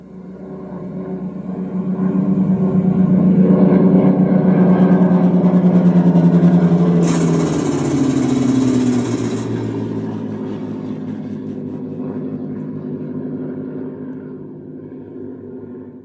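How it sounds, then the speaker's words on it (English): An aircraft passes overhead, a broad droning rumble that builds over a couple of seconds, holds loud, then drops in pitch as it moves away and fades while a faint hiss runs briefly in the middle. "There's an aircraft coming over."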